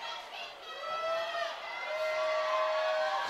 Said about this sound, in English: The crowd loving this.